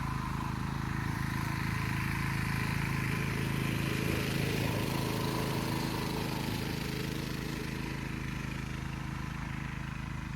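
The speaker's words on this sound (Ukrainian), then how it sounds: "Трошки трактор там проїде." A steady low engine rumble drones throughout, a tractor motor running at a constant pace as it drives past near a fishing spot, fairly close, with no voices.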